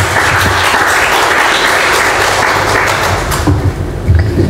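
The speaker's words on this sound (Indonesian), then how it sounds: "Kasih tepuk tangan untuk Tuhan." Church congregation applauding together, a steady dense wash of clapping that stays loud throughout and thins slightly near the end.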